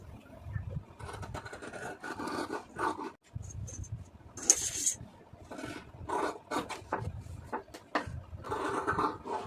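Scissors cutting blouse fabric along a marked line, a steady run of soft rasping snips close by with brief pauses, with no talk over it.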